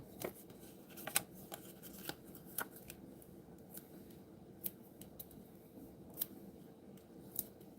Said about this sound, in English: Got some scissors.